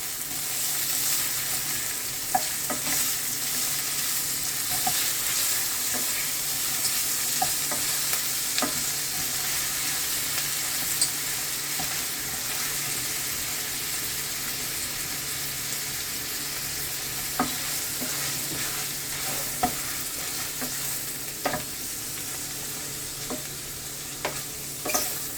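Shrimp gets stirred into simmering ackee in a pan: a long, even sizzle with scattered clicks and scrapes from the spoon against the pan, close and unbroken by talk.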